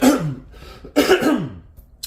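A person clears their throat twice in quick succession, close and fairly loud, with a short pause between the rasping bursts.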